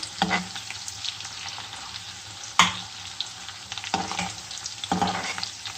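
Onion frying in fat in a pan for a cabbage-and-ribs dish, a steady close sizzle broken by several louder stirring scrapes, with no talk.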